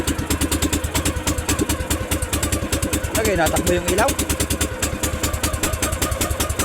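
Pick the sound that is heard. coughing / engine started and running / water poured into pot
engine started and running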